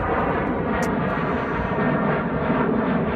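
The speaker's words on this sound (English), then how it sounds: "You can hear the airplanes." Jet airplanes pass overhead near an airport beside coastal sand dunes, a continuous broad engine roar that stays steady and fairly loud with no talk.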